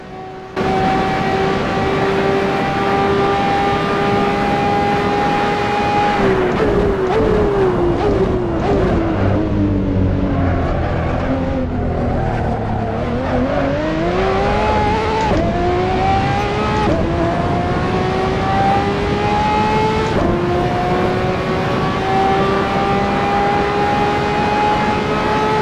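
Ferrari 599XX Evo racing around Monza in Assetto Corsa, its engine screaming loud and continuous through upshifts, with a dip and bog mid-lap as revs fall and climb back, then steady high-pitched wailing on the straights.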